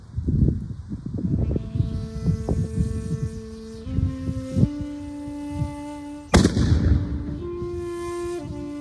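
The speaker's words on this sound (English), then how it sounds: "this is a 30mm Ozutsu, the largest and most powerful one we have in our collection" A 30mm Ozutsu Japanese matchlock cannon fires a single loud, sharp boom at a gunnery demonstration at Matsumoto Castle, rising out of steady background tones and crowd noise and leaving a lingering rumble.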